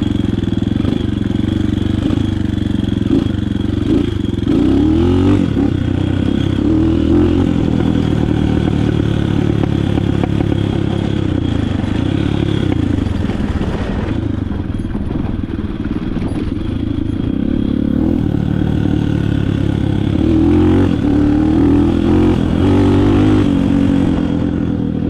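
A motorcycle engine runs continuously up close, revving and easing off over a rough, slippery dirt trail, with rattling and clatter throughout.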